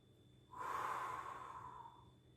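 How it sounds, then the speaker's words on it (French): One slow breath during a beginner Pilates exercise, inhaled through the nose and exhaled through the mouth, a close, soft airy rush that swells and then fades over about two seconds. "On va venir inspirer par le nez et expirer par la bouche"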